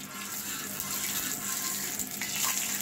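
Ghee poured onto a hot tawa for frying shami kabab, a faint steady sizzle and hiss with a soft rushing, watery texture.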